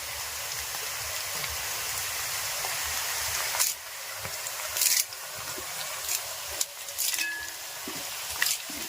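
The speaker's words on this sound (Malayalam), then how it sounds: "അപ്പൊ നമുക്ക് കറിവേപ്പിലയും കൂടെ അതിന്റെ കൂടെ." Curry leaves spluttering in hot oil, a continuous rain-like hiss punctuated by several sharp crackling bursts and pops at irregular intervals, close and fairly loud, with no talking.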